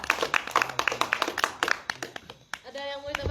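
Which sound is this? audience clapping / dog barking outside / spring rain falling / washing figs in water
audience clapping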